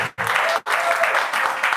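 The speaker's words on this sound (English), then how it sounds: "Give her a round of applause" An audience applauds a retired senior nursing officer at a breast cancer awareness event, a close, brisk burst of clapping broken by two short gaps.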